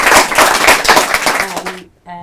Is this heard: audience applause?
yes